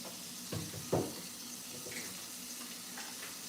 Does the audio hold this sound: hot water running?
yes